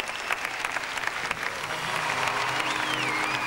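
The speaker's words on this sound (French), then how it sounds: "Il est très applaudi, bien entendu, Fabian Anpuren, l'Allemand." An arena audience applauds a German gymnast at the 2006 DTB Cup, a dense wash of clapping that grows slightly louder and fuller over the few seconds, with a faint whistle near the end.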